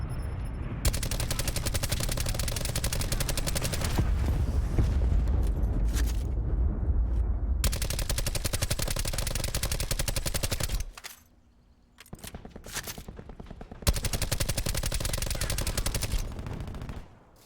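Rapid automatic gunfire in Black Ops 4 as a player shoots at razor wire: long, loud bursts of continuous shots, with a short pause then another burst, under game effects.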